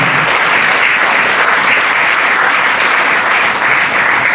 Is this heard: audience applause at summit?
yes